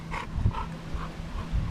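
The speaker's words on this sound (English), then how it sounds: "This noise he does? He sounds like a walrus or something." A pit bull makes odd, strange low grunting and panting noises, a few short huffs in a row, fairly close and fairly quiet.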